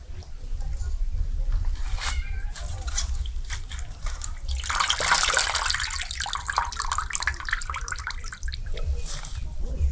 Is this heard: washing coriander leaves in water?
yes